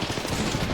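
A burst of rapid automatic gunfire from an enemy in the Apex Legends battle royale game, loud and dense across a brief moment.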